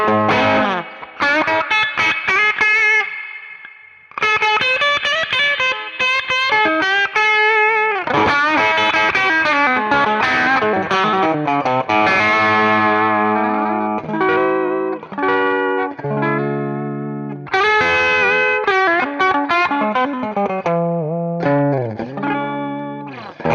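An electric guitar with coil-tapped pickups plays loud, effected chords and riffs with distortion and chorus. The playing is dense and continuous, with a brief break early on and no talking.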